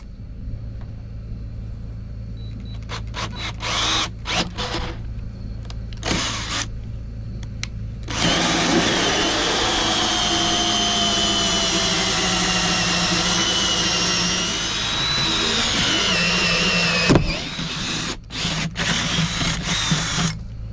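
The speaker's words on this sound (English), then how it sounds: "let's drill these holes." A power drill whirs in short bursts while drilling holes for a bathroom sink fitting, then runs continuously for several seconds, loud and close, before stopping and giving a few more short pulses.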